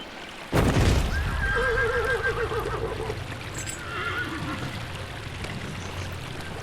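A horse in Dragon Age Inquisition whinnies loudly with a wavering, drawn-out neigh after a sharp onset, then a fainter second whinny follows over a steady background rumble.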